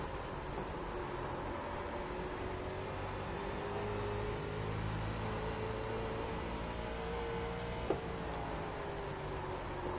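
A late model race car engine in iRacing drones steadily at Concord with a faint whine as the rear tires scrub and slide, a brief sharp click near the end.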